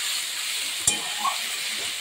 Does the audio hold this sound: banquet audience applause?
no